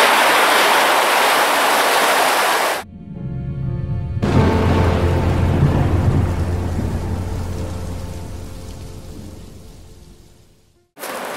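Rushing water of a full, powerful underground river flowing through a brick sewer collector beneath Moscow, a loud steady roar that cuts out briefly before resuming, with a deep rumbling low end and no voices.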